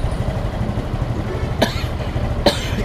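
A man with a cold coughs twice, short and close, over the steady low rumble of an idling vehicle engine.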